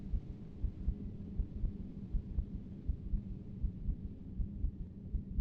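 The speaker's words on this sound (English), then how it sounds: "So we can hear the heartbeat," A slow, regular heartbeat pulses from the Haunted PS1 Demo Disc horror game, deep muffled thumps in even pairs over a low ambient hum, with no voices.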